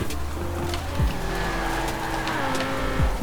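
A Ferrari 599 drifting in the racing game Forza Horizon 4, with a steady loud engine drone and short rising tire squeals around the first and third seconds, continuous and close.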